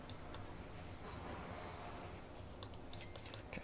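Train pulling out of a station in the railway game Transport Fever 2, a steady rumbling rail roll with faint clicks and squeaks laid over a continuous broadband wash, fairly quiet with no one speaking.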